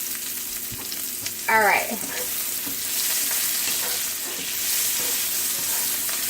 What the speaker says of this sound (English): we're going to go ahead and saute those for about another minute